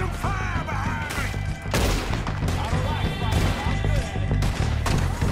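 Heavy, sustained gunfire in Red Dead Redemption 2, dense overlapping shots and bursts filling the scene, with shouted voices mixed in during a shootout.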